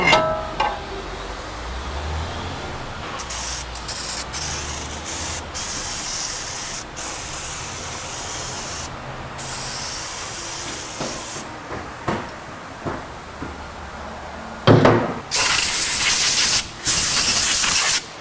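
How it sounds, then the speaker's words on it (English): Brake cleaner sprayed from an aerosol can onto a car's brake parts during a brake job, long loud hissing bursts with short pauses, then a few shorter sprays near the end. "You're going to take your brake clean and wash it off."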